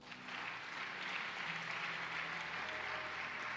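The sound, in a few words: church congregation applauding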